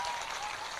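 A crowd claps steadily at a political party launch rally in Bihar, a dense wash of applause that stays even and unbroken for under a second.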